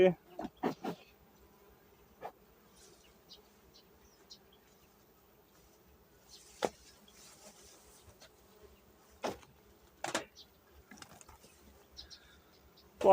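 Honey bees buzz softly and continuously near nucleus hives, punctuated by occasional sharp knocks and clicks of 300 frames being handled.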